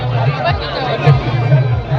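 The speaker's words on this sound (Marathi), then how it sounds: "इकडे सुद्धा खूप गर्दी" Dense crowd chatter fills a busy Koli festival food fair, with many overlapping voices close by in a constant hubbub.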